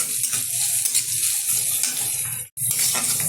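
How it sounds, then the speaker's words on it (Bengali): Chopped onion is stirred through hot oil in a pan for fried greens, making a loud, close, continuous sizzle with scraping stir strokes that cuts out briefly before resuming. "পেঁয়াজটা একটু নেড়ে চেড়ে নেবো তেলের সাথে"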